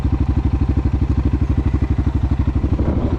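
A CForce 600 ATV engine fitted with an RNG clutch kit runs loud and close, its steady, rapid pulsing throb held at high revs with a faint rattling clatter, no voices over it.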